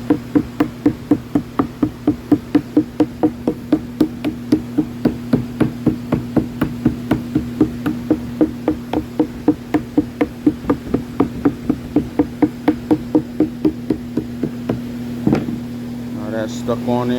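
Hammer taps along the edge of a Formica countertop, a long, even series of quick knocks over a steady low engine-like drone.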